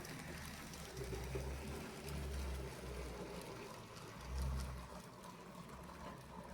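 A Kato C11 model steam locomotive crawls slowly over track, struggling through a 15-degree crossover; a faint, steady low mechanical whir with soft rhythmic pulses, quiet and without talk.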